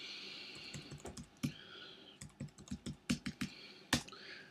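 Someone enters a username and password on a computer keyboard, a run of close, crisp key clicks in uneven bursts with a few louder strikes, no talking.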